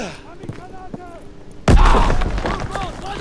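A grenade goes off in a World War II shooter game with a sudden loud boom and a long rumbling tail, after a few seconds of quieter battlefield noise and chirping.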